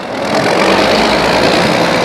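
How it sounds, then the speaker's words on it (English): A modified farm tractor at a fair's tractor pull roars at full power, a loud, dense, unbroken engine blast that fills the whole stretch without pause. "Truck and tractor pulling action here tonight."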